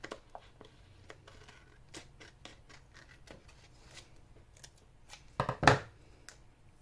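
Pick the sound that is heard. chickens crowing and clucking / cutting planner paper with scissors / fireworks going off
cutting planner paper with scissors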